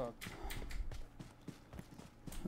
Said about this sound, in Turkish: Önümüzde ayak sesi geliyor.